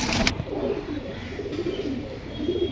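Pigeons in a loft of Pakistani birds give soft low cooing phrases, faint and repeated under a constant background hum, after a brief knock at the start.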